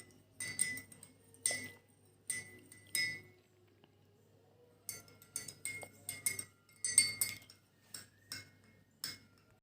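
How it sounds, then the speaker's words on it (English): A metal spoon stirring sugar into a glass of water, giving quick bursts of bright clinks against the glass with short quiet pauses between them, close and crisp. "Stir it well."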